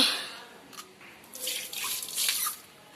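Water running from a tap for handwashing, starting faint and then splashing in louder bursts with dripping and hissing, close by and with no talking.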